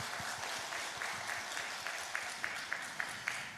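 Congregation applauding during a church worship service, a steady wash of many hands clapping for a few seconds with some rhythmic claps standing out.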